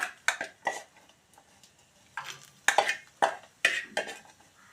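Crisp fried dried prawns clatter and scrape into a metal bowl, a few sharp knocks and rattles in short bursts with pauses between, close and fairly loud with no talking.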